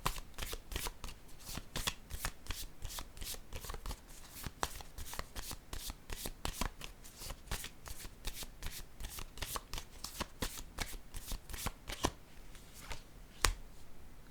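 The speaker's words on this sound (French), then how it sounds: "Attendez, je vais piger une autre carte pour ici." Tarot cards are shuffled in a long run of crisp, rapid riffling snaps close by, steady and rhythmic throughout with no talking.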